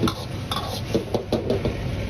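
Tofu braises in a pan, thickened with a starch slurry, while a utensil stirs it with quick, repeated clinks and scrapes against the pan, close and fairly loud.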